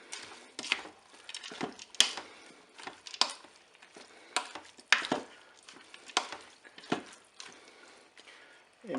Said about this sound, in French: Bien sûr, on mélange les ingrédients